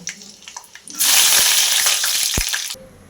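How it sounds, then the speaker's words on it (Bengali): Peanuts dropped into hot oil in a wok set off a sudden loud, hissing sizzle that lasts about two seconds before cutting off. "তেলের মধ্যে আমি চিনে বাদামগুলো দিয়ে বাদামগুলো ভেজে তুলে নেব"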